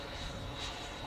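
An AeroFoam T-45 EDF radio-controlled jet cruising at half throttle, heard as a faint, steady ducted-fan whine with a thin high tone over a brief stretch.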